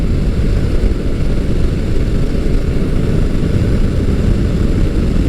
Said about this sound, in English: It's got a mean sounding motor. It's got that V-4, and it kind of sounds a little bit like a Ducati with a dry clutch as it's idling.